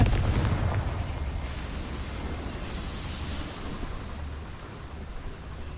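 A Confringo spell explodes in Hogwarts Legacy: a loud, booming blast at the start that rolls into a long, rumbling, crackling decay filling the whole moment.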